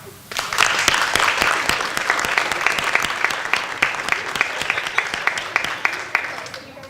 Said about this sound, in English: I just wanted to give one more round of applause for this great group of kids.